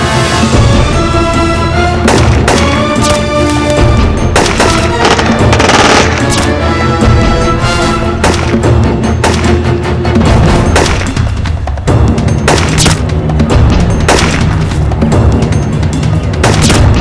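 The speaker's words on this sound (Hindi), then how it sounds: "Deshpande, cover fire" Sustained machine-gun bursts and heavy gunfire fill a shootout scene, loud and dense throughout with booming impacts layered under music-like tones.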